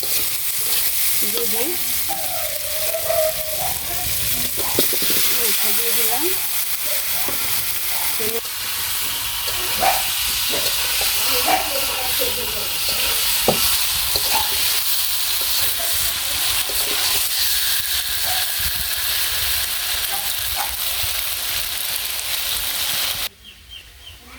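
Chicken pieces with tomato sizzle and fry in a pan on a village cooking fire, steady loud crackling throughout while a spatula stirs and scrapes at intervals, stopping abruptly at the end.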